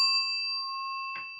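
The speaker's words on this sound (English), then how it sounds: "So I'm going to ring the bell here" A bell rung once during a tarot reading, a clear bright ding with a sustained ringing tone that slowly fades, close and alone.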